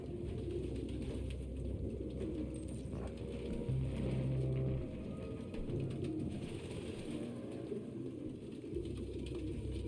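Pigeons coo softly in an apartment full of birds in the video game Detroit: Become Human, a low murmuring chorus with a few distinct coos over a steady ambient hum and flutter.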